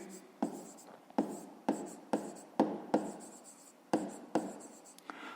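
Pen on paper, writing out a fifth-grade math exercise, with a regular series of close scratchy strokes, each starting with a sharp tap and fading, repeating about every half second.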